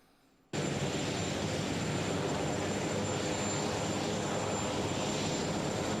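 A helicopter sits at boarding, and its engine and rotors switch abruptly from quiet to a loud, steady, broad roar with a thin high whine on top that holds unchanged to the end.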